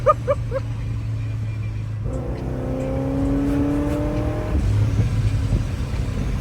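A supercharged C6 Corvette engine from ProCharger revs hard, then the throttle lifts and the blow-off valve lets out a sharp whoosh as the engine settles into a lower drone. The sound is close, loud and continuous, with no talking.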